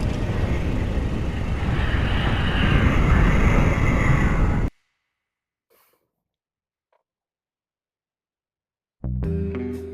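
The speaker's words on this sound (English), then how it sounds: "Chair launch sequence initialized." A flying armchair launches and lifts off in the virtual reality game I Expect You To Die, a loud, dense rushing roar that holds steady for several seconds, cuts off abruptly into near silence, then returns with a burst of music.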